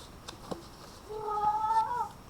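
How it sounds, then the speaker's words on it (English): A house cat lets out a short, drawn-out meow in a quiet indoor room, preceded by a couple of faint clicks, with no talking. "So sorry for my cat meowing right there."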